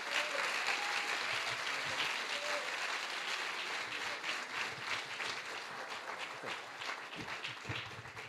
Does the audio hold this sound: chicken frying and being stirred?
no